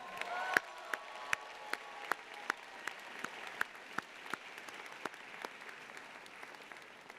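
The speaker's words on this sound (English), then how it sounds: "Can we get a round of applause for them while they're coming up?" Applause from a crowd at a university commencement ceremony, steady clapping with sharp individual claps standing out, moderately loud and continuing throughout.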